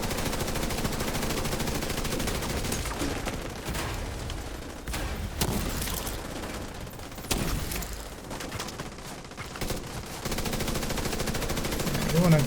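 Rapid bursts of video game gunfire, loud and close, with stretches of sustained automatic fire broken by short pauses; a voice talks over it now and then.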